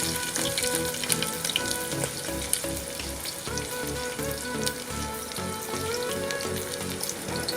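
Chopped onions frying and sizzling steadily in a hot pan for a koldil (banana flower) dish, with occasional stirring clatter and a faint running-water background, no talk.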